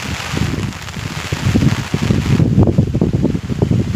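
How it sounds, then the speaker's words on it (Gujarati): Strong wind roars through a rain-soaked cotton and castor field during very heavy rain, a steady loud rushing with gusty buffeting against the microphone and no speech. "પવન પણ વધારે છે."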